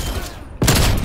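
A gunshot from a trick shot in a video game, a sharp loud blast that bursts in after a brief lull, followed by dense rapid fire and echoing noise.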